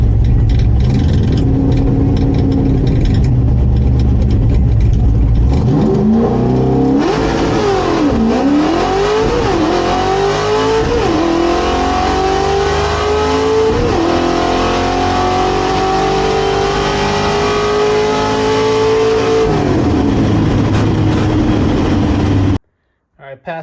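A 1968 Ford Torino GT drag car with a small-block 302 and T5 gearbox roars off the starting line at a test-and-tune event, revving hard through several rising gear pulls for about fifteen seconds before cutting off abruptly.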